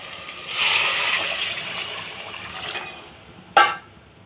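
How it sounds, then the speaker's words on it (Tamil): Water pours steadily into a cooking pot in a continuous splashing rush for a few seconds, then a short sharp clatter near the end. "ஸோ இப்போ 3 கிளாஸு தண்ணி ஊற்ற போகிறேன்."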